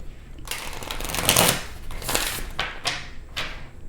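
Tarot cards are shuffled by hand up close, a series of crisp riffling bursts, one longer flurry then several shorter quick riffles.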